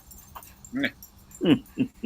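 A dog at home gives a few short barks and whimpers in separate bursts, close by and fairly loud, with a brief jingle between them.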